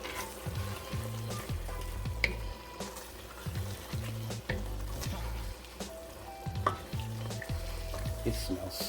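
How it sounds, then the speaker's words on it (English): Spices being stirred into a pan of chicken, shrimp and andouille sausage jambalaya give a steady frying sizzle with scraping stir strokes, while rhythmic low music pulses run underneath throughout. "And we're going to stir in that paprika."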